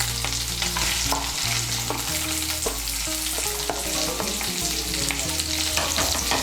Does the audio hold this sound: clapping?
no